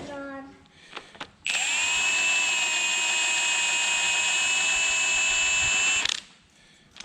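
A power tool whirs loudly and steadily for several seconds as it removes the cylinder head bolts from a Subaru BRZ engine, with a few short mechanical clicks and clunks heard before the tool starts and after it stops.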